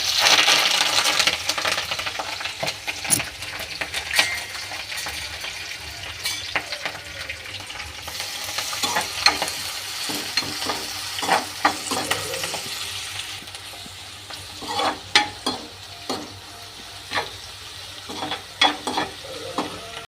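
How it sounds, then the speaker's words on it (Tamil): Green chilies, curry leaves and garlic spit and crackle in hot oil for chutney, a loud initial burst of sizzling settling into steady frying with sharp pops and stirring clinks throughout. "இதில் வந்து பச்சை மிளகா கருவேப்பிலை பூண்டு மூணுமே ஒட்டுக்க கொட்ட போகிறோம்"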